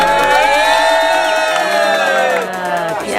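A dense crowd of tourists gathered at the Christ the Redeemer statue in Rio de Janeiro, a loud continuous hubbub of many voices, cheering and shouting close around, with no single speaker standing out.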